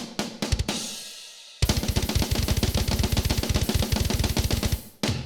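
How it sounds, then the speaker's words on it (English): Old school death metal virtual drums from a Cult Drums sample pack: a few loose hits, a brief pause, then a fast relentless double-kick and snare barrage with crashing cymbals, loud and alone before an abrupt stop. "So what you just heard was the old school death metal 2-pack from"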